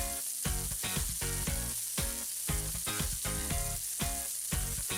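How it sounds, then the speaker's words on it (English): Lamb chops frying in hot oil in a pan, a steady loud sizzle with crackling pops running continuously, close up and with no voices. "the oil is hot, then I added in half my lamb chops"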